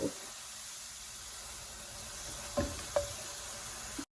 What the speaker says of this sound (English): I'm gonna go ahead and add my shredded onion to this pan.